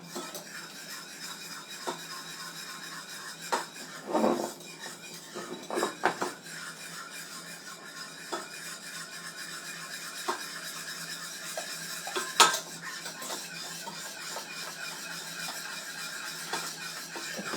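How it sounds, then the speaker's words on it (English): A spoon repeatedly scrapes and rubs around a pot on the stove while stirring a thickening mixture, giving soft, steady, rhythmic scraping with a few louder knocks against the pot. "when we stir, we slow things down"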